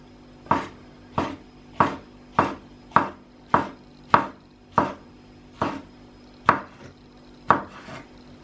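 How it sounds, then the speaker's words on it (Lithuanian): A knife slices porcini mushrooms thinly on a cutting board, about a dozen crisp evenly spaced chops in a steady rhythm, close and clear with no talking. "Pjaustau taip po kokius 2-3 mm plonai."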